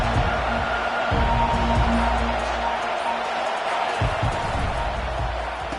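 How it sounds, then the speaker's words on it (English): Stadium crowd at a college football game, Utes on the road, keeps up a loud, steady roar of cheering and noise throughout, with a few sharp bursts and thumps rising out of the wash. "This crowd trying to show them what it's going to be like all day in this house."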